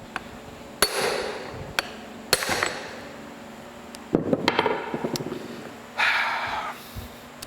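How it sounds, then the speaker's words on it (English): Sharp metal hammer blows strike a stuck part while a LeBlond lathe apron is taken apart, several separate loud ringing hits spaced a second or more apart, close and alone with no talking. "Might have to get a bigger hammer."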